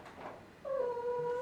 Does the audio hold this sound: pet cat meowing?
yes